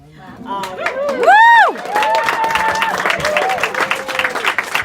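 Applause and cheering from a crowd at a Kamala Harris event in a bookstore, steady clapping with a loud whoop or cry rising over it early on, then continuing mixed with crowd noise.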